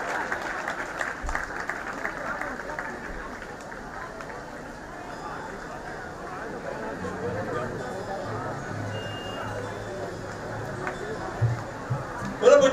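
Devotees applaud at a Jain religious ceremony in Indore, a moderate sustained clapping spread across a crowd with murmured voices and babble mixed in, swelling louder toward the end.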